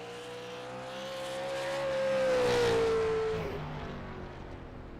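A race car roars past on a dirt track during a sprint car race, its engine note rising in pitch and volume as it approaches, then fading with a falling whine as it moves away.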